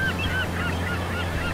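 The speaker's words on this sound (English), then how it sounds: "See how there's birds up there?" Geese honking near a dock by kelp and seaweed in an ocean-themed play area, several short nasal calls over a steady low hum, no talking.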